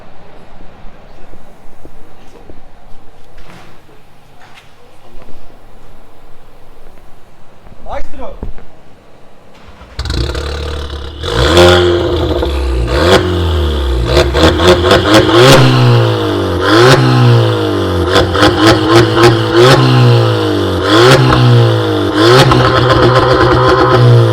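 A SEAT Leon FR 1.4 with a full aftermarket exhaust and software tune starts after a quiet stretch and revs repeatedly, its exhaust note rising and falling in loud, close bursts.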